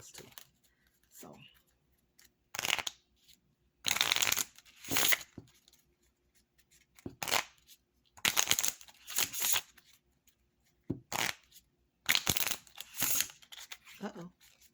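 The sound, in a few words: shuffling and cutting a deck of Lenormand cards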